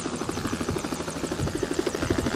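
A firefighting helicopter hovers during a wildfire as it takes on water, its rotor giving a loud, steady rapid thumping that stays constant throughout, with no voices.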